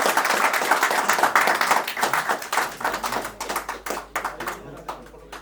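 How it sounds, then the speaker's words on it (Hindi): An audience at a human rights awareness training programme claps in a sustained burst of applause that thins into scattered, fading claps, with a voice talking over it. "एक बार आप लोग जो है हौसला अफजाई करिए जोरदार ताली के साथ"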